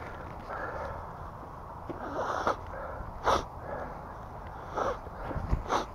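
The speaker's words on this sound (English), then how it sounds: "Sorry about my sniffling." A person sniffles repeatedly on an outdoor trail hike on a chilly day, with about four short nasal sniffs spread across quiet background noise.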